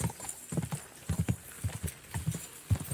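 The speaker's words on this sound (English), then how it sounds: "You gotta hear my clomping frickin' horseshoes coming at you." Horseshoes clomp in the Kingdom Come: Deliverance 2 video game, a steady, close run of hoof strikes on a road at a walking pace.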